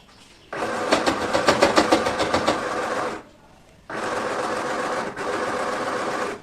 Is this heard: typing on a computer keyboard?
no